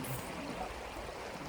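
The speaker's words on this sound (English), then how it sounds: "this is the second type of waterfall type crossing we've had" Water rushes steadily over rocks at a small waterfall-type stream crossing on the Aconcagua approach trail near Confluencia camp, a continuous close burbling wash filling the whole moment without talk.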